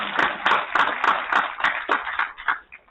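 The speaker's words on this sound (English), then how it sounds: "Round of applause for Villageworks." A small audience at a film festival claps in a brief, sparse round, about eight or nine distinct claps in a loose rhythm, fading out after a few seconds.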